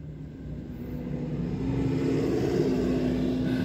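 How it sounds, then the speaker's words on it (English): Car traffic passes along the street outside a front yard, a steady low rumble that swells gradually as a vehicle draws nearer, moderately distant and with no voices. "This is my front yard, so there's a lot of cars driving by."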